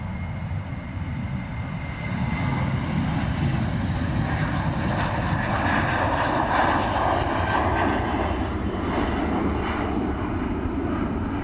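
A loud, steady turboprop roar with a droning engine hum, sustained throughout as a C-130 Hercules departs nearby at Dublin Airport.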